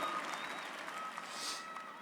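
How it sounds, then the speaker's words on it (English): Audience applause at a May 2016 UNCG commencement ceremony, a steady dense wash of clapping from a large crowd that holds evenly for about two seconds, alone with no speech over it. "I'd like for you to give them a round of applause"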